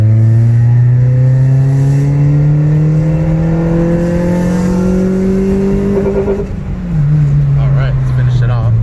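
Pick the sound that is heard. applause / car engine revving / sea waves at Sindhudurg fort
car engine revving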